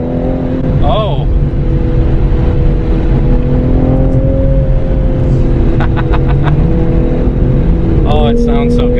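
A 2020 Toyota Supra MK5 engine pulls steadily under acceleration while driving, a loud continuous drone with rising tones, as a voice exclaims over it near the start and end.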